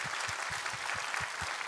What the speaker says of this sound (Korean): 우리 하나님께 감사와 영광의 박수 올려드리도록 하겠습니다.